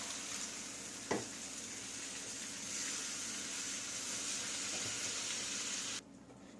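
Half a tumbler of water poured into a pan of fried masala and tomato gravy, giving a steady hissing sizzle that runs evenly with a brief splash near the start, then cuts off abruptly near the end.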